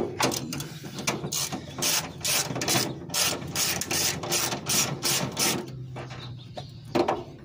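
A hand ratchet with a 12mm socket clicks in quick bursts while loosening a radiator bracket bolt on a 1998 Subaru Legacy 2.2, close and fairly soft, with brief pauses between strokes and no talking.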